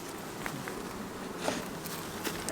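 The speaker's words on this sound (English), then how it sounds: "Yeah, nice bunch of bees right there." Honeybees in an opened hive being worked by a beekeeper, a soft steady buzzing hum throughout with faint scattered clicks and brushing sounds, fairly quiet and close.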